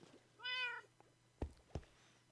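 A cat in the video game Minecraft gives a single clear meow, followed by a couple of sharp clicks, against a quiet, near-silent backdrop.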